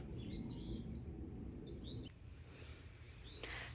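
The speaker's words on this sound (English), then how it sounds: "and you can hear the birds." Faint, high bird chirps come in short separate calls in woods on the Bruce Trail, over a low, steady rumble of breeze.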